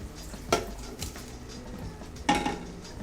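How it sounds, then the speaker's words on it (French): Crab meat goes into a pan and is stirred for a Basque txangurro, with two sharp clanks of a utensil against the pan over a faint sizzle, close and otherwise quiet, with no talking. "Et là on rajoute la chair de crabe."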